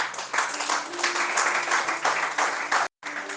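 A church congregation claps and cheers in praise, a dense continuous burst of applause with voices mixed in, close and fairly loud, cutting off abruptly near the end.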